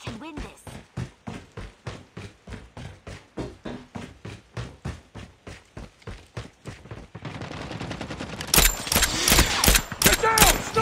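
Gunfire in a Call of Duty Mobile deathmatch, rapid rhythmic shots in a steady burst, followed by louder, denser firing near the end, with game voice callouts over it.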